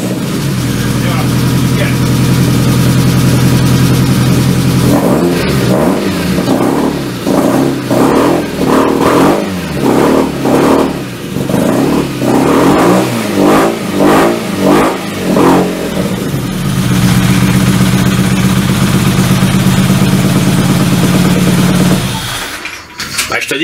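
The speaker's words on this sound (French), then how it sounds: "c'était le démarrage du moteur de la Clio RS, donc qui est monté dans la Cateratom" Renault Clio RS engine mounted in a Caterham cranks, catches and revs hard in a series of sharp blips before settling to a loud, steady idle, recorded up close with a brief clatter at the end.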